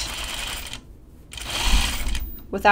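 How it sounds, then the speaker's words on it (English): A sewing machine stitches a French seam on a dress in two short runs of rapid mechanical whirring separated by a brief pause, close and clear. "So now I'm doing my French seam."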